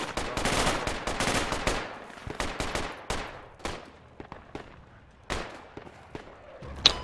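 Gunfire in the Project Reality military shooter in an urban battle in Muttrah City: sharp rifle cracks in quick bursts, loud and clustered at first, then scattered single shots with gaps of quiet, no speech.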